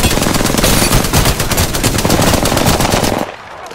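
Sustained rapid automatic gunfire in the Apex Legends video game, loud and continuous bursts cutting off abruptly near the end into quiet.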